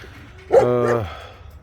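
A single loud dog bark or yelp, close by, lasting about half a second, with quiet background before and after.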